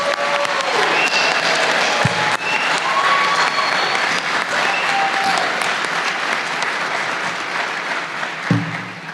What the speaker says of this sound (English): let's give all of our students who are graduating from the College of Humanities a round of applause